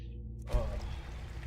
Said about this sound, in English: I hear the sound of water. I'm outside. I'm outside!